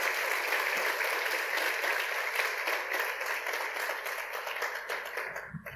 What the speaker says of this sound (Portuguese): Dê um forte aplauso ao teu Deus.